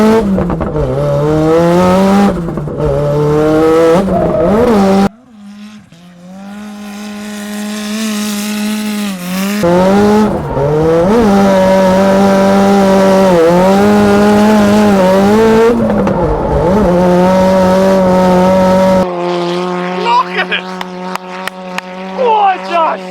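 A 300bhp Mazda MX5 drift car's engine and exhaust blare loud and close, revs climbing and falling in sustained harsh howls, with a sudden cut, a rough rising rev, then crackles and pops as the throttle lifts.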